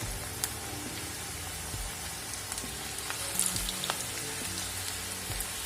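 Onion pakoda batter dropped in pieces into hot oil, sizzling and crackling steadily throughout with scattered small pops, close and fairly loud.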